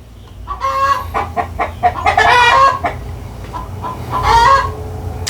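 A rooster and a hen on a farm clucking together, the louder rooster's bursts standing out over the hen's steady clucks in a lively, overlapping run of calls close to the microphone.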